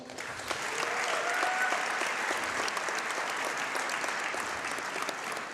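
A basketball game crowd applauds school donors with steady, sustained clapping from many hands, moderately distant and filling the hall.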